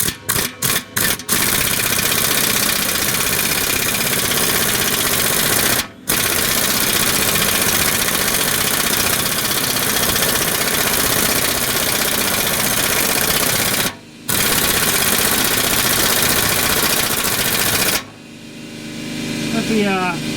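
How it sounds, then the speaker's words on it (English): Air compressor running during an exhaust flange gasket job on a 1994 Mazda Miata, a loud continuous droning chug with a few short stutters and brief dropouts, stopping near the end. "Let the compressor have a little break."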